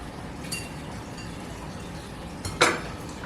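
Egg noodles are lifted into a ramen bowl for wonton noodle soup, with two faint metallic clinks of utensils against the bowl, the second louder, over quiet room hiss.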